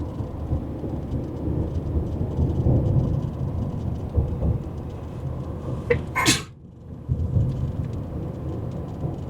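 One sharp, loud sneeze bursts out over the steady rumble and rush of riding along a road in the Florida Keys.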